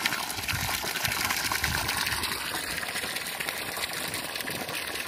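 An artesian well pump runs while water gushes out in a steady, loud, continuous rush, with no pauses and no voices.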